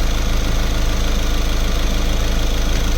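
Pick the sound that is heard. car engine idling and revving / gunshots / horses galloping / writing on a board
car engine idling and revving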